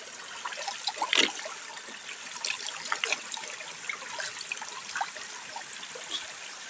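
Clear mountain spring water trickles steadily and softly, a continuous gentle babble close by with a few brighter splashes, and nobody speaks.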